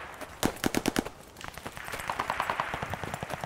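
Bursts of automatic rifle fire and single shots crackle around a contested hardpoint in Call of Duty Vanguard multiplayer on the Demyansk map, with STG44 fire: a rapid run of loud close shots, then denser, more distant volleys rattling on.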